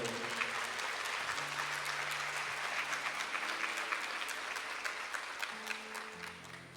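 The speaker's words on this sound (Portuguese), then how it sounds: "você pode aplaudir o Senhor" A church congregation claps together in sustained applause, a dense, even wash of many hands with a low organ-like tone underneath, steady throughout and gently fading toward the end.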